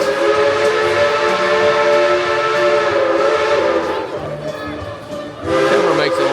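A Dollywood train's steam whistle sounds at the Smoky Mountain Christmas event, a loud sustained multi-tone blast that holds steady for several seconds, briefly dips, then swells again amid crowd noise.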